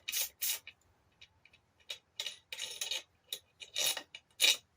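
Scraping and rubbing bursts come from 8mm case screws being removed from a GY6 150cc scooter engine during a top-end rebuild, in short, close ratcheting and scraping spurts separated by quiet gaps.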